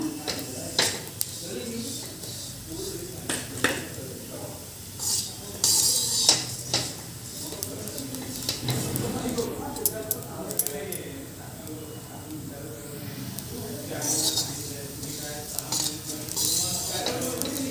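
Whole spices and cumin for Solapuri kala masala dry-roasting in a pan, with scattered clinks and scrapes of a spoon against metal and light rattling of seeds, while someone talks over it.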